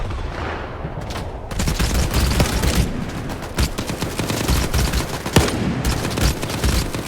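Sustained rapid gunfire in the S.T.A.L.K.E.R. 2 video game, dense automatic bursts and single shots crackling loudly and continuously for several seconds with no talking.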